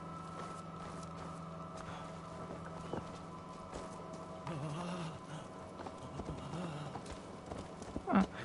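Horse hooves clip-clop steadily in Assassin's Creed Valhalla over a busy, layered game soundscape with a constant drone and scattered effects, and a louder burst near the end.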